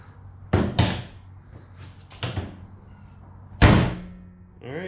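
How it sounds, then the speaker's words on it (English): Fiberglass hood on a Corvette C6 with an LS3 engine being lowered and shut, several solid thumps spaced across a few seconds, close by, with a brief voice near the end. "let's see if the hood closes"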